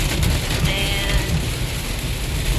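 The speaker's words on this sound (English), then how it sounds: "So we finally ran into some rain on the way home." Heavy rain falling on a car during a drive home, a steady, dense patter and hiss on the roof and windshield under the rumble of the moving car.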